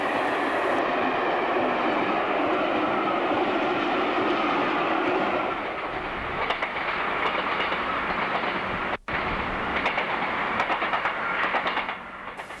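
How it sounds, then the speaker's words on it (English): Class 47 diesel locomotive 47597 hauls the 1400 parcels train to Paddington up the steep 1 in 67 bank to Grampound Road in Cornwall. It makes a loud, continuous rumble with rhythmic wheel clatter, briefly dipping and then easing near the end. "With the 1400 parcels to Paddington, 47597 attacks the 7 mile, 1 in 67 bank to Grampound Road."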